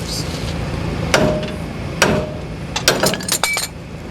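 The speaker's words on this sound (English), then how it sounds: "I hit the stud a couple of times with my BFH, see if it pops that ball joint" A heavy hammer strikes a steel stud several times to pop the ball joint on an AMC AMX front end, sharp metallic bangs with ringing clinks in an irregular burst, close and loud over a steady background hum.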